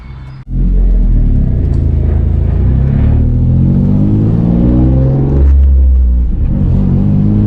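A car engine revs hard and rumbles loudly and close throughout while drifting, holding a sustained roar with rising and falling pitch after a brief quiet start.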